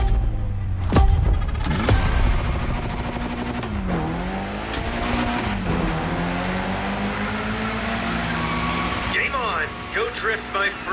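A Mitsubishi Lancer Evo X drifting along a corkscrew road in The Crew Motorfest: a sustained engine drone rising and falling through revs, with tire squeal as the car slides, and someone talking over it.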